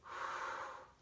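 A single soft, airy inhale lasting about a second, close and quiet, taken during a Pilates swimming exercise on all fours.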